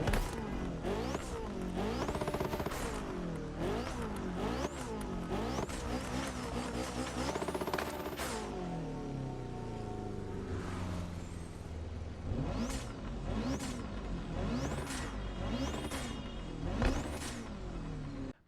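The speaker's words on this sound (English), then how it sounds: "what do you guys think about the actual sound of the engine in the 919 Street?" Engine of a Porsche 919 Street with a 2-liter turbocharged V4, revving repeatedly in sharp rising-and-falling sweeps, loud and close, first in quick succession, then after a steadier stretch in a regular series of high-pitched blips.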